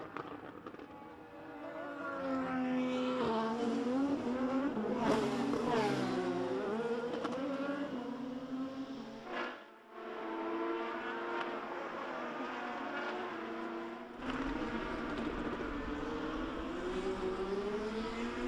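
IndyCar race cars scream around a road course, engines rising and falling in pitch as they pass at distance, a continuous buzzing roar lasting throughout.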